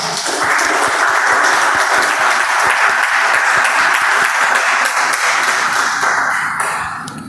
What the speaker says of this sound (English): Please help me welcome with a huge round of applause Toastmaster Akhil onto the stage, please.